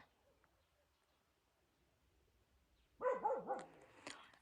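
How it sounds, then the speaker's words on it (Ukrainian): A dog barks a few times close by after several seconds of quiet outdoor village ambience in Ukraine, with a short, higher yelp at the end. "собаки гавкають."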